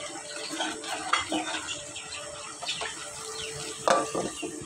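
Duck meat curry with jackfruit seeds being stirred in a pan, a spoon scraping and clinking against the metal over a steady soft sizzle, with a couple of sharper knocks.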